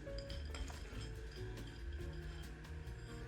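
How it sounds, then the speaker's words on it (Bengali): Peanuts and other ingredients for a mixed bhorta are added a little at a time into a dish, giving soft clinks and taps over a steady, quiet background hum. "আমি এখানে বাদামগুলো দিচ্ছি, অল্প অল্প করে সব উপকরণ দিচ্ছি।"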